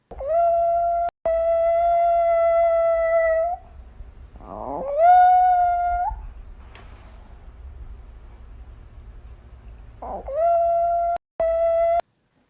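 A dog howls in long, steady, drawn-out tones, close and loud. There are three main howls separated by short pauses, plus a brief whimpering rise between them.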